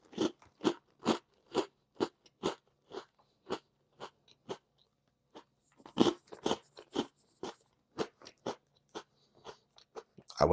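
Loud, close crunching bites and chewing of brownie chocolate crunch cookies, a steady series of sharp crackly bursts at a quick rhythm with no talking.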